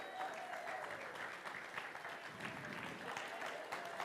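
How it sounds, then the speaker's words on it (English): A church congregation applauds during a service, a faint, distant wash of steady clapping with light crowd murmur underneath. "He likes the applause"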